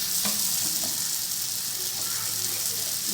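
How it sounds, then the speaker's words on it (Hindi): Eggplant frying with softened tomatoes in a pan, giving a steady close sizzle with light stirring noises throughout. "अब इसमें हम बैंगन डालते हैं, हल्का सा भून के बस इसको डिश आउट करते हैं।"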